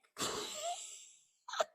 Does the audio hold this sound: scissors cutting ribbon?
no